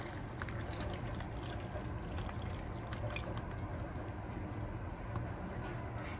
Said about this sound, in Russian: И теперь хлебушек заливаем нашим молочком.